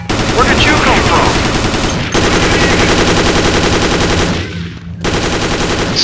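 Sustained rapid automatic gunfire fills a Dead Effect 2 boss battle, loud and continuous in dense bursts with a brief break near the end, no talk over it.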